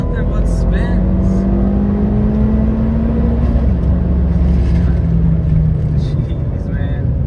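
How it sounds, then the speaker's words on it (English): Turbocharged Ford Fiesta ST spinning its tires during a street pull, a loud sustained engine drone with a steady whine and road roar throughout, close to the car, with occasional voices mixed in. "Nothing but spins."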